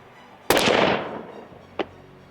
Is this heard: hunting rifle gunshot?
yes